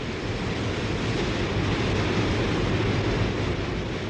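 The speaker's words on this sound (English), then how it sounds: "the Zambezi plunges over a cliff and thunders into a chasm" Victoria Falls on the Zambezi River thundering into a deep chasm, a dense, continuous low roar of falling water, loud and unbroken throughout with no voices.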